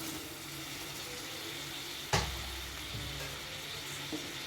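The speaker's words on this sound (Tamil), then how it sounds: "இந்த தக்காளி வதங்கி வரட்டும்." Chopped ripe tomatoes sauté with onions in a pan for chicken roast, a soft steady sizzle with a sharp clack of a spoon on the pan partway through, and no one talking.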